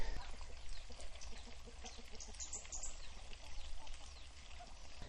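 Ducks feed in a draining farm pond full of shrimp and snails, their faint quacks and chatter rising in short bursts over steady rushing water and outdoor noise.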